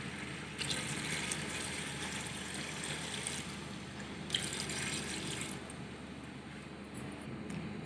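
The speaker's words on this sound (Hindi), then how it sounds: "पानी डालेंगे 1 लीटर।" A stream of water pours in two bursts with a short pause between, splashing steadily into a cooking pot of mutton paya.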